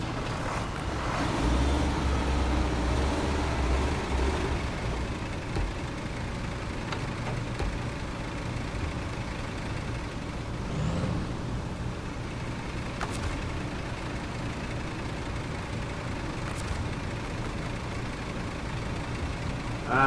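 A Navistar truck engine drives steadily in the SnowRunner video game, a continuous low rumble with some scattered clunks, and no voices.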